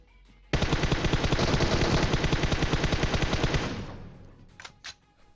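Sustained automatic gunfire in PUBG Mobile, a rapid burst of shots lasting about three seconds that fades out, followed by a couple of faint, high-pitched game sounds.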